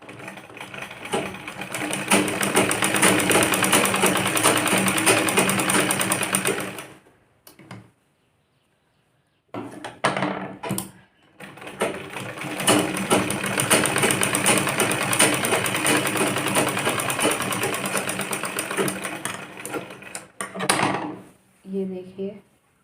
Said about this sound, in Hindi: इस तरह से हम इसको बेल्ट को सील लेंगे।